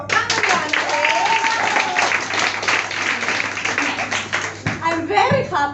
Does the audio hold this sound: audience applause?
yes